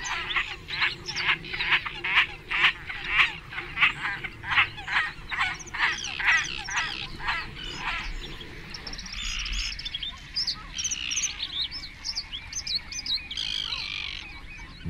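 Great crested grebes fighting among closely packed nests, a run of loud rhythmic squawking calls, then harsher overlapping cries, near and with no talk.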